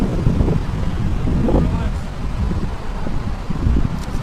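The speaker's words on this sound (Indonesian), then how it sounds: "Angin lah." Gusty wind buffets the microphone outdoors, a steady low roaring rumble that swells and eases throughout without letting up.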